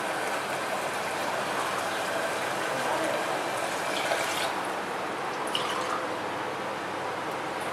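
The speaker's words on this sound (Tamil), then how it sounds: "இப்ப தேங்காய் பால் ஆட் பண்ணிக்கலாம்" Coconut milk being poured into a cooking pot of sautéed peas for coconut milk rice, a steady liquid pour with dripping and splashing, close and continuous, with a couple of small clinks near the end.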